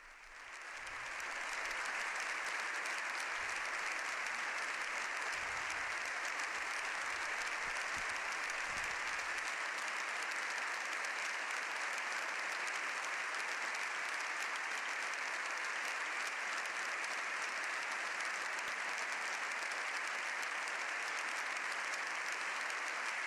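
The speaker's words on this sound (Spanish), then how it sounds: "Ambas cámaras, puestos en pie, aplauden largamente al Papa." Members of the Spanish Congress and Senate, standing, give Pope Leo XIV a long ovation; sustained dense applause fills a large chamber, rising quickly and holding steady throughout without speech.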